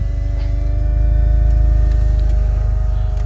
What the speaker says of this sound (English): Now I can really hear the exhaust.